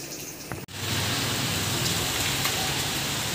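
Heavy monsoon rain pours down in Ranchi as a dense, steady hiss of rainfall that swells in after a brief dip and continues loud and unbroken.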